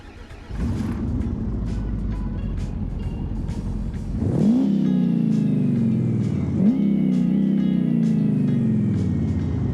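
Sports truck engine in the BeamNG driving game, idling then revving hard twice with rising pitch sweeps, loud and close, settling into a sustained drone under acceleration.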